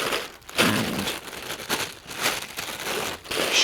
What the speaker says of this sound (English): So I'll just put this stuffing back into the bag